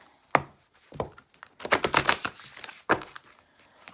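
Tarot cards being shuffled by hand, a series of crisp riffling bursts and soft slaps, some isolated, others clustered into a quick flurry, close and clear with no talking.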